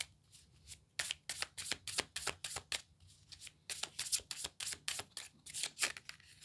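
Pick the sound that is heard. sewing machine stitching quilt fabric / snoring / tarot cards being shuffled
tarot cards being shuffled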